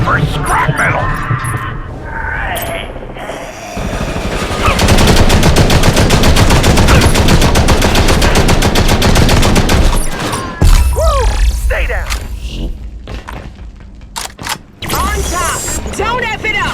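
Turret gunfire in the Modern Combat Versus shooter game, loud rapid automatic bursts running for several seconds, then sporadic shots and mechanical clatter, with game voice lines in places.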